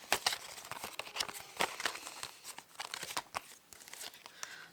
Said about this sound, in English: Let's shuffle these to find your card.